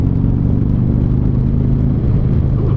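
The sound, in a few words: Harley motorcycle engine while riding in second gear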